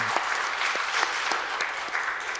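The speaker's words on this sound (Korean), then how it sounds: "두 분 잠깐 일어나 주시면 저희가 한번 박수로 한번 환영하겠습니다." Steady applause from a church congregation, dense and sustained clapping filling the room throughout, with no talking over it.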